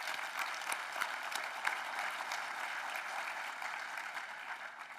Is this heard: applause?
yes